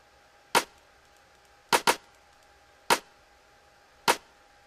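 Sharp, dry snare hits from a Reason 5 drum machine dancehall beat ring out alone at uneven intervals, including a quick double hit, crisp and close against near silence.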